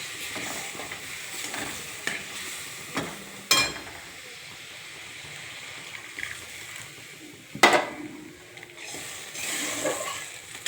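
A potato and pointed gourd curry, made without onion or garlic, simmers and sizzles softly in a pan, with a low steady bubbling hiss broken by a couple of brief clattering stirs.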